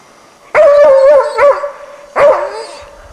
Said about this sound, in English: The dog barks at the animal without losing sight of it for a minute, until the hunter arrives.